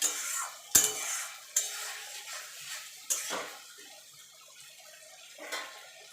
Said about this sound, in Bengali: এবার ভালো করে কষিয়ে নেবো যতক্ষণ আদা রসুনের কাঁচা গন্ধটা চলে না দেওয়া পর্যন্ত